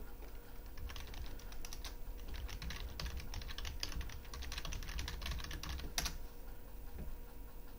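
Rapid typing on a computer keyboard while entering vocal synthesis parameters, steady close clatter of keys with a sharper single tap near the end, no voices.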